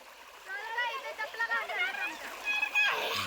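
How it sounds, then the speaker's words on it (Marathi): A child plays in a village stream, water splashing and sloshing over several seconds, with a stronger splash near the end, while voices talk over it. "बघा ह्याला मजा वाटते पाण्याची ओढ्याच्या पाण्यात असं खेळतो"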